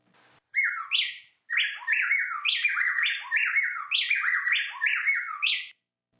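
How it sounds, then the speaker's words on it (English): Loud, clear birdsong in quick back-and-forth phrases, two voices alternating so tightly they sound like one continuous song, with no talking. "how many birds are singing?"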